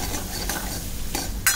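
Malvani masala and spices sauté in oil with a brief close sizzle broken by a few spoon stirs and a sharper scrape at the end.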